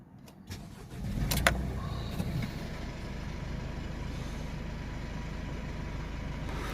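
A Mercedes Sprinter 2.1 diesel van with a blocked DPF cranks briefly and fires up, then settles into a steady, close idle that runs on to the end.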